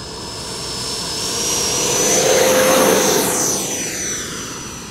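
An E-Flite Viper 70mm electric ducted fan model jet, flying nose heavy, whines steadily on a landing approach, rising as it passes close and then fading away with a falling pitch.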